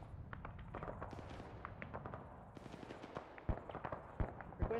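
Rapid game gunfire in a military shooter, with bursts of automatic fire and sharp single shots crackling in irregular volleys over a steady battle din, a few louder close reports near the end.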